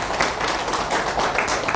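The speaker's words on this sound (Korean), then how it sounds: "박수!" Brief burst of audience applause at a motivational speech, many hands clapping together in a loud, even patter throughout.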